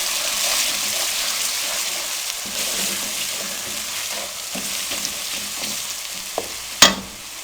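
Spices with a bay leaf and dried fenugreek leaves being stirred in a frying pan for dhaba-style mixed dal, a steady close sizzle and fry hiss with light spoon scrapes, ending in a sharper clatter.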